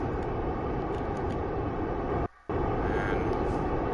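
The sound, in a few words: rocket engine throttling up in video game Kerbal Space Program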